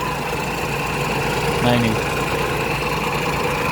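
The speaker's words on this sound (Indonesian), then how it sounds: "Untuk AC ini kompresornya agak berisik ya, seperti ini ya." A steady, droning whir with a rough mechanical edge from the noisy AC compressor of a 1990 Toyota Starlet EP80 1.0 runs throughout, while someone speaks briefly over it.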